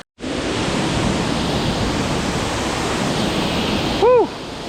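A waterfall on a river in the PA Grand Canyon roars as a loud, steady rush of water, holding constant until it cuts off near the end.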